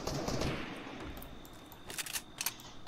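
Rapid bursts of gunfire in the video game Fortnite crackle through a steady wash of game noise, with a few sharper shots standing out near the end.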